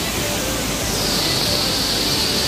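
Mountain stream water rushes steadily near a waterfall at Changey, Kolakham, a loud continuous hiss that stays unbroken and close throughout with no talking.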